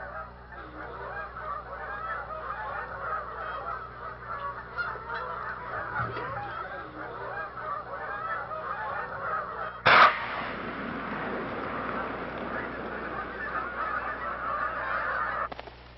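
Many Canada geese honk and call continuously at a wildlife refuge in Maryland, a dense overlapping flock chorus, with a sharp burst partway through and louder, busier calling afterward.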